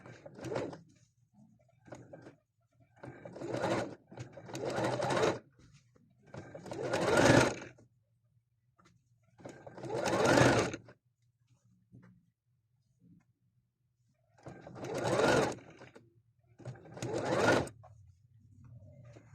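A sewing machine stitches a shirred halter top in repeated short bursts of a few seconds each, separated by quiet pauses, heard up close with brief voices in between.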